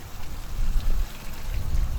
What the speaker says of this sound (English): So I'm gonna hit it with some water.